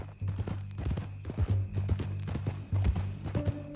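Horse hooves clip-clop at a steady, close trotting rhythm in the Western video game Red Dead Redemption 2, with a low hum underneath.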